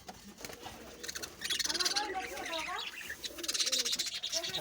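Birds on a small bird farm coo and chirp in overlapping bursts, fairly close and moderately loud, with bright chattering layered over softer cooing and no one talking.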